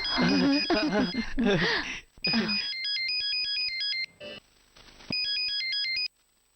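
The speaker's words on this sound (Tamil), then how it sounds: "எனக்கு போன் வந்திருக்கு." A mobile phone ringtone plays a bright electronic melody after a brief stretch of talking, pauses, then resumes for a few more seconds before stopping.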